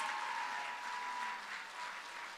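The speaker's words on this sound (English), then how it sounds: "Can we all give our seniors a big, big round of applause?" A high school audience applauds graduating seniors, a brief burst of steady, fairly distant clapping from a crowd filling the whole moment.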